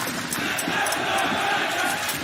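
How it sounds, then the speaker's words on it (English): A large indoor crowd at the ESL Challenger Melbourne esports event roars and cheers in a continuous, loud wash of voices, with no break or lull. "I could barely hear you over the crowd."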